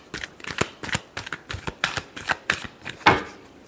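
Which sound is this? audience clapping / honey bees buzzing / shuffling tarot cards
shuffling tarot cards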